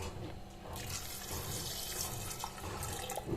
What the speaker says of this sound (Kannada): ಇದಕ್ಕೆ ಈಗ ನಾನು ಅಷ್ಟೇ ನೀರನ್ನು ಸೇರಿಸ್ತಾ ಇದ್ದೇನೆ.